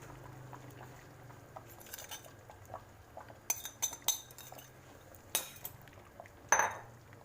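A metal lid is set onto a pot of fish and rice while it cooks, with scattered clinks and taps of cookware and one sharp ringing clank near the end, close and otherwise quiet.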